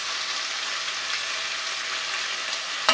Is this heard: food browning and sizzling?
yes